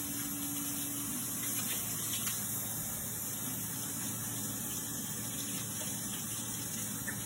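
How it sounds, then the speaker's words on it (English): Water runs steadily from a kitchen tap while hands are washed during cooking, a constant, fairly quiet gushing hiss with slight shifts in the splash, with no voices. "Let me just wash my hands."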